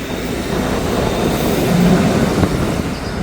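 Massive freight trains grind up a steep grade with a loud, steady rumble of heavy rail cars and locomotives. A brief metallic wheel squeal rises midway, and no one talks.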